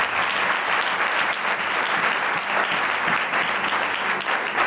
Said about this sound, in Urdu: ہاتھوں کو اٹھا کر لہرا کر یسوع کو جلال دیں, ورشپ اور زوردار تالیاں یسوع کے لیے جائیں.